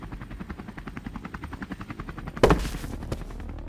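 A helicopter thumps overhead with rapid, regular rotor beats, steady and fairly loud, and a sudden louder burst partway through adds a sharp blast before the chopping continues.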